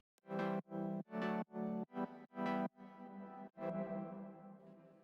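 A synth chord layer from a track in an EDM arrangement, a quick run of punchy rhythmic stabs followed by two longer sustained chords that fade out, with no voices.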